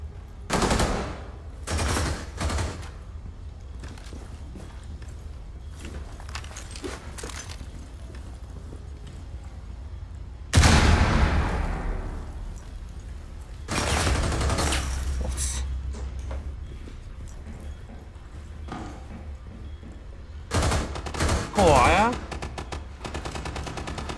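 Rapid gunfire bursts in the tactical shooter Rainbow Six Siege, several sharp clusters of shots and automatic fire spread across the stretch, loud and close, separated by quieter game ambience.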